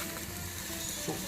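Onion frying in a pan for a chicken tagine, a faint, steady close sizzle with a brief flick of stirring near the end.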